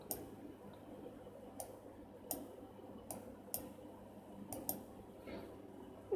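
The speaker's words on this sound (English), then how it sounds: "I will press the right mouse click and I will increase the hardness" Computer mouse clicks, sharp and close, while adjusting brush settings in Photoshop: about eight single clicks spaced irregularly over six seconds, some in quick pairs, against a quiet room hum.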